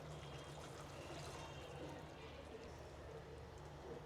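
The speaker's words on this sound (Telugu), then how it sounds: "ఇలా ఇంకో గ్లాస్ వాటర్ అయితే పోసుకుంటున్నాను" A glass of water poured into a pot of goat head curry cooking in village style, a steady broadband rush over a low hum with faint background voices.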